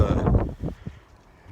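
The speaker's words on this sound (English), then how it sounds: "it's windy today" Wind buffets the open outdoors on a sunny, windy day, a loud low rumble with gusty surges early on that drop away to a quieter hiss, no voices.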